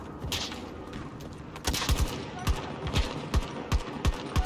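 Rapid gunfire in a DICE shooter game, with bursts of sharp, booming shots landing in a fairly regular rhythm that grow denser and louder partway through, and a voice talking faintly underneath.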